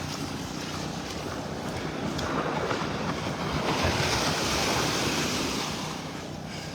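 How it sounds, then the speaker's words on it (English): Ocean surf and waves wash steadily onto a beach in North Naples, Florida, a continuous close roar with wind buffeting the microphone and a slight swell in loudness midway. "I'm sure that surf is going to pick up when that wind shifts"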